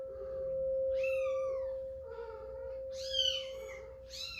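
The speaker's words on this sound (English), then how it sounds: "Sorry about the meow meows" A cat meows close by, four or five drawn-out, rising-and-falling cries in quick succession over a faint steady electrical hum.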